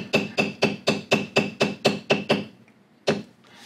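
Mallet blows on a leather beveling tool while hand tooling a large basket weave pattern: nine steady, evenly spaced sharp knocks, close and loud, then a pause and one more strike.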